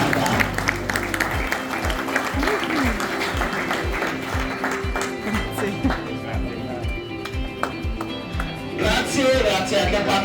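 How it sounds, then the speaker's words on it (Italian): Applause at a regional amateur football awards ceremony in a hotel hall, brisk clapping laid over loud rhythmic music with a strong beat that runs through the whole stretch. "applauso triplo per questa consegna di carta"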